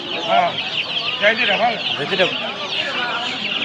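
Chickens cluck close by at a poultry market, with busy, overlapping clucks throughout and voices mixed in.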